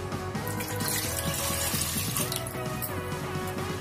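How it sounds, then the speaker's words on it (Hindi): A glass of water poured into a pressure cooker on a gas stove for boiling chickpeas, a steady splashing pour that runs continuously throughout, fairly close and alone. "अब इसमें 1 गिलास पानी डालेंगे"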